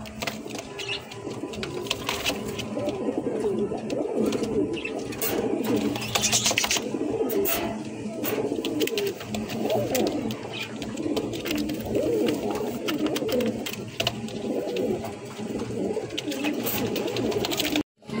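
Pigeons kept as breeding pairs coo in soft, repeated throaty calls. Several birds overlap in a continuous, close chorus.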